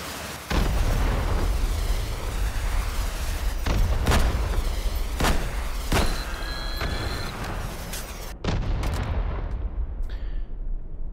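Rocket blasts in the VR shooter Hot Dogs, Horseshoes & Hand Grenades, played on an HTC Vive: a loud, continuous barrage of booms, with several sharp impacts spaced a second or two apart over a steady rumble, and no talking.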